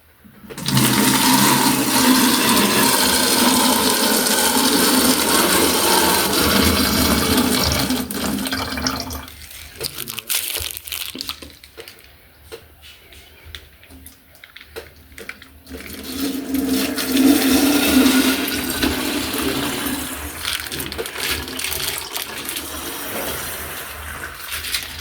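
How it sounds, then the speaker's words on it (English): Water poured in a steady, loud rush into a container holding cloves and salt, thinning and breaking up midway, then flowing strongly again before tapering off. "Add water to it."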